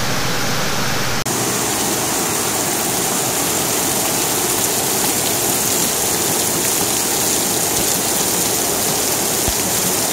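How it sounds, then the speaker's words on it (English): Heavy rain pours down in a dense, constant hiss, loud and unbroken, with no voices. "Holy crap. It's pouring down."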